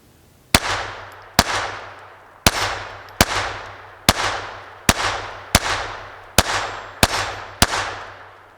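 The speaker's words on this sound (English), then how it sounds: "Let's see how well it functions with the Cci Clean Ammo here." A Taurus TX22 pistol fires CCI Clean .22 ammunition outdoors, ten sharp, loud shots in a steady rhythm, each with a short echoing tail.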